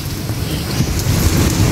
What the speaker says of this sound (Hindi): देखिए गाइस, फुल बारिश हो रही है बाहर, फुल बारिश।